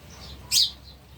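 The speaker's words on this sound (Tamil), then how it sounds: "சோறுனா நல்லா சாப்பிடுது இந்த குருவி." A sparrow eating cooked rice gives a single short, bright chirp burst, close and clear over faint background hum.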